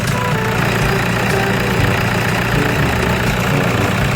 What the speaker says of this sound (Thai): เดี๋ยวเราไปฟังเสียงเครื่องยนต์กันครับผม